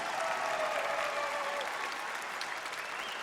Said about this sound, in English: give all of our contestants one more big round of applause